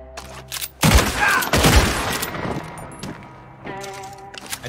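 Bursts of video game gunfire, a rapid volley of loud shots and booms over a few seconds, then scattered quieter sounds afterward.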